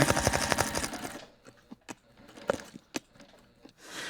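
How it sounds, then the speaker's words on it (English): A sewing machine back stitching a fabric bag runs in a steady rapid burst for about a second, then gives a few short, separate clicks and taps nearby. "So I'm just going to back stitch a bit here."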